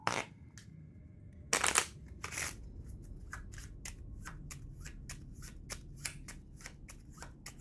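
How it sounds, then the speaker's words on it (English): Playing cards for the HeroQuest board game shuffled up close: two loud riffling bursts, then a steady run of quick, crisp card flicks at an even rhythm with no talk. "Quick shuffle."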